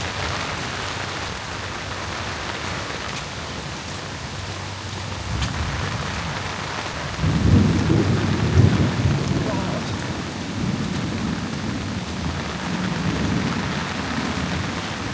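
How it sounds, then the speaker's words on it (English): Thunderstorm with heavy rain on a remote Cambodian island, a steady broadband hiss of rainfall throughout, with deep rumbling thunder swelling loudly around the middle and lingering low rolls afterward. "So that storm was crazy."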